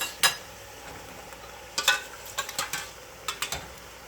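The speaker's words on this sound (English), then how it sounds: "Stirring this up" Pasta with Italian sausage and cauliflower stirred in a pan, giving a few close, scattered scrapes and clinks over a low, steady background.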